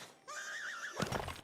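A horse in the video game Disney Dreamlight Valley gives one clear, wavering whinny up close, followed by a short burst of snorting and hoof-like clatter.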